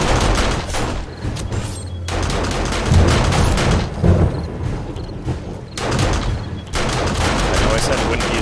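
Rapid gunfire from the video game 7 Days to Die, Alpha 20, during a horde night base defence: loud bursts of repeated shots with short pauses between volleys, close and dominant throughout.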